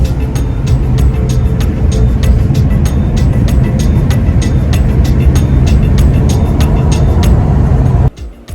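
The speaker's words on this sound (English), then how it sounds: "we're going up the Blue Ridge Parkway right now in the new Subaru Wilderness" A Subaru Wilderness cruises up the Blue Ridge Parkway, its cabin filled with loud, steady road and engine rumble plus rhythmic ticking, the noise dropping abruptly near the end.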